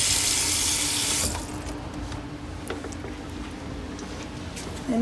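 Hot water runs from a kitchen tap into a pot over chicken, a loud steady gush for the first second that drops to a softer trickle and splash as the pot fills, with no talk.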